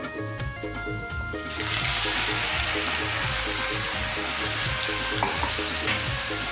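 Cumin and a ground spice paste sizzle in hot oil for a Maharashtrian kardi dish, a steady loud frying hiss close by with occasional stirring scrapes, no voices.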